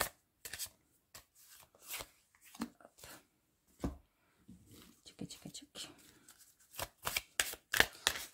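Tarot or oracle cards being shuffled and laid out, a series of short papery riffles and slaps spread irregularly across several seconds, close and fairly quiet, with faint soft voice sounds in between.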